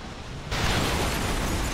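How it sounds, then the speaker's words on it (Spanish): Explosion in the strategy video game XCOM 2 with The Final Modpack: a sudden loud blast about a third of the way in swells into a dense, sustained roar of debris and rumble that fills the rest of the clip. "¡Eso es una explosión!"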